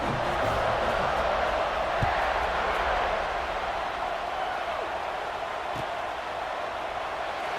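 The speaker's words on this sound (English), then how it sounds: "this crowd is feeling themselves after that last drive" A football stadium crowd in a video game keeps up a steady, moderately loud roar and murmur with scattered cheers, with no single burst standing out.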